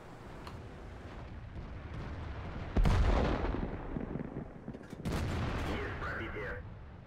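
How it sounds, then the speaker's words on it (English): Artillery fire in a tank battle video game replay: two heavy booming blasts a couple of seconds apart rising over a low rumbling background. "For some reason, their artillery shot at the T-29 instead of you."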